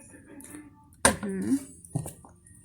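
A cooking pot is lifted and set back down on a kitchen scale, giving a sharp metallic clatter and a short rattle amid room noise, with people talking quietly nearby.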